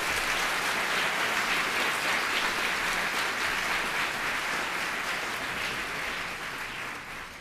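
A dense, steady round of applause fills a hall as the audience at a Durham police service awards ceremony honors the award recipients, sustained throughout and slowly tapering at the close.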